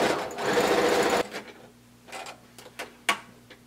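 A sewing machine stitching a blanket coat seam with white thread, a fast steady whirring run of stitches for about a second, followed by a few scattered clicks and taps from handling the fabric.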